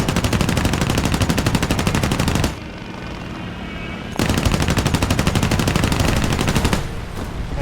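Machine guns on a Ki-43-II fighter fire in War Thunder in two long, rapid bursts, loud and close, separated by a short gap filled with engine drone.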